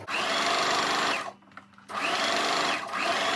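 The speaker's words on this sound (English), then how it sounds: "So guys, let's stitch. You first of all back stitch, okay? Then you carry on stitching." A domestic sewing machine stitches fabric for a double-loop instant hijab: a steady loud motor whir runs, halts briefly for about a second, then resumes and runs on, close and alone.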